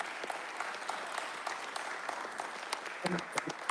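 Audience applause at an award ceremony, a steady wash of many hands clapping from a moderate distance, fairly soft, with a few louder claps and a brief voice near the end.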